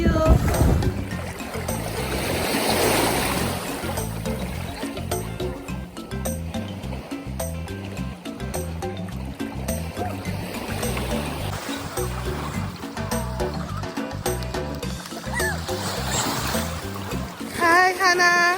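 Waves and moving water at Grand Case Beach, a steady broad wash with splashes running throughout, with people talking and calling out over it.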